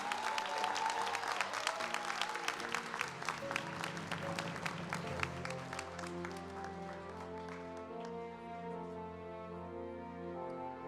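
Applause ripples through the audience at an anniversary awards gala, crisp individual claps at first, then fading under sustained music tones as the clapping thins out.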